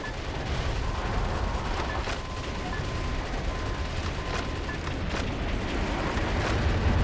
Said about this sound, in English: Long-range missiles are approaching. Watch out for aerial attacks.